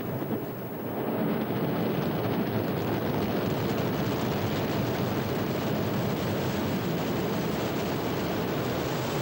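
Ariane 5 rocket engines thunder at liftoff, a dense, sustained broadband roar that swells in the first second and then holds loud and steady without any speech.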